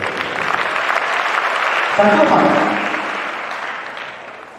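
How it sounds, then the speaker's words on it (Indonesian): Seminar audience at a large motivational gathering applauds, a broad steady wash of clapping that swells slightly then fades, with a voice speaking briefly over it. "Tepuk tangan buat yang sudah bicara"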